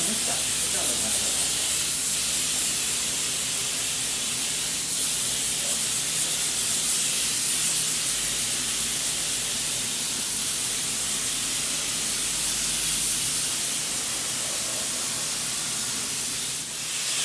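A spray gun applies Mastercoat silver paint to a truck chassis, giving a steady loud continuous hiss of atomized paint that runs unbroken for the whole stretch, with a low hum of compressor or ventilation underneath.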